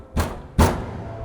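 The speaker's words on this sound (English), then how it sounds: "There is more bangs on the door." Two heavy thuds of someone banging on a house door, loud and close, spaced about half a second apart, with no voices.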